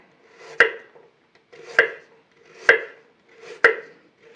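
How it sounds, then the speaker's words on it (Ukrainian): Carrot chopped with a knife on a board, four evenly spaced sharp close chops about a second apart, each with a short crunchy cut before the blade strikes, no talking. "нарізаємо морку, Можна так фігурно нарізати, можна кубочками нарізати також"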